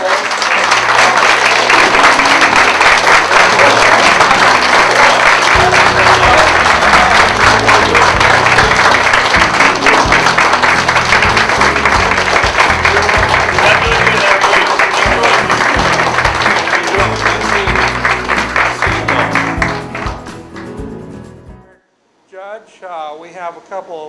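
A crowd at a Mars Hill, Madison County gathering gives a mayor, a candidate for North Carolina governor, a long, loud, sustained round of applause that fades out near the end, followed by someone speaking.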